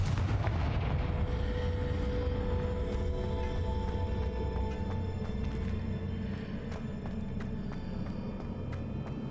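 The Confringo fire spell explodes in the video game Hogwarts Legacy, a dense rumbling blast with crackling bursts and a low roar that fades slowly.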